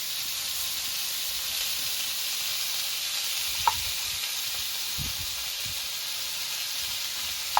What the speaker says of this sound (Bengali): আলুগুলো দিয়ে দিয়েছি এবার একটু নেড়ে চড়ে নেবো